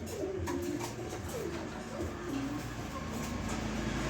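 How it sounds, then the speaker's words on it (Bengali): A pair of big, high-quality racing pigeons coo in repeated soft, rolling calls, close by, over a steady low background hum. "খুবই সুন্দর কবুতর, বিগ সাইজের সুপার কোয়ালিটি এক পেয়ার কবুতর আছে এখানে।"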